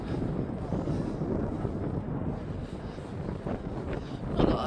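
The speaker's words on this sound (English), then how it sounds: "So it's a bit windier up here." Wind buffets the microphone at the top of the Skylon Tower at Niagara Falls, a steady low roar that swells and eases, with faint voices in the background.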